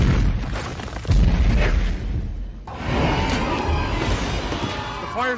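Black powder explosions in a movie battle against Tao Tei creatures: heavy booming blasts and crashes roll through dense battle noise, with a fresh burst partway through and voices mixed in.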